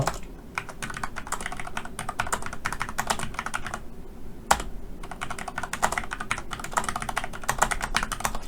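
Rapid clatter of computer keyboard typing while numbers and text are entered into an Excel spreadsheet, steady and close with brief pauses and a sharp key strike midway.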